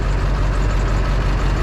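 Steady, even hum of a lightweight 2,000 watt Champion generator running nearby, a constant mechanical drone with no change in pitch.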